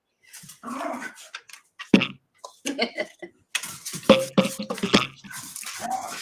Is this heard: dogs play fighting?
yes